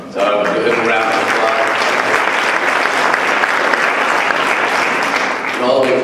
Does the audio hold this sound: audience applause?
yes